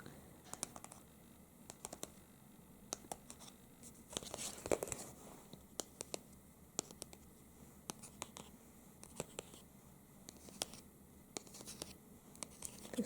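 A paper CD sleeve is handled and tapped up close, producing soft, quiet crinkles and irregular light taps and clicks against a hushed background.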